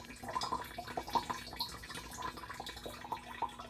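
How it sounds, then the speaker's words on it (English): Fresh rainwater trickles and drips steadily down through a collection filter, a close, continuous splashing with irregular droplet patters. "Okay, there's the beautiful water coming down. Isn't that a great sound?"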